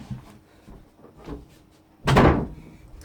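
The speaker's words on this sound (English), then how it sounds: "Just let me shut the door." A door pushed shut indoors with a single solid thud and rattle, loud and close, after a stretch of quiet room shuffling.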